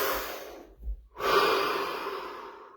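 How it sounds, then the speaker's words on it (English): A person takes a deep breath during a stillness meditation, one slow close inhale followed by a brief pause and a long, audible exhale, with no talking. "Deep breath, 60 seconds of absolute stillness and silence."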